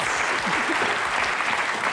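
A television studio audience applauds, a dense, even burst of many hands clapping at once, loud and continuous throughout, with a voice faintly beneath.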